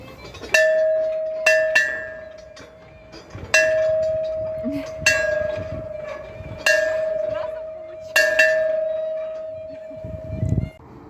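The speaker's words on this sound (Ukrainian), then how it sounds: "Мені теж захотілося вдарити у дзвони." A bell in a park in Odesa's arboretum is struck six times at uneven intervals. Each clang rings out clearly and decays slowly, with voices faintly underneath.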